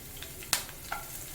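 Garlic and onion fry in oil in a pan, a faint steady sizzle broken by two sharp stirring clicks.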